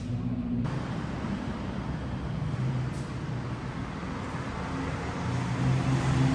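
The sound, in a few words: Hyundai Terracan 4-wheel drive driven into garage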